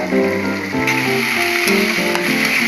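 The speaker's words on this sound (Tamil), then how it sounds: "நல்லா வெங்காயம் வதக்கி வரட்டும்" Onions sautéing in a pan for a Tamil home recipe, a loud close sizzle with shifting crackle as they are moved about, no voices.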